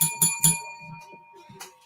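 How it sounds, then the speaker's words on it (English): A short ringing of wedding bells: three bright, sustained chimes struck in quick succession with lingering tones, followed by a fainter final ring, moderately loud and alone. "That was the wedding bells."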